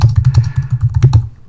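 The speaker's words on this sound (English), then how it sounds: "if I just type, I can do anything like I normally would" Rapid, steady typing on a computer keyboard, close and loud, with a quick even run of key clicks and thumps that stops abruptly near the end.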